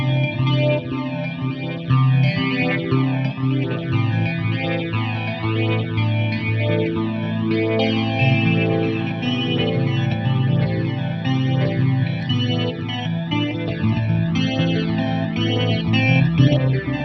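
An electric guitar on a clean tone with the middle pickup plays a song, a continuous fingerpicked pattern of shimmering arpeggiated notes with a chorus-like sheen, steady and fairly loud with no voices.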